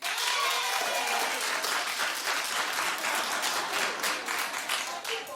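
Studio audience at a daytime talk show clapping loudly and continuously, a dense close wash of many hands that stays strong for the whole stretch before easing slightly at the end.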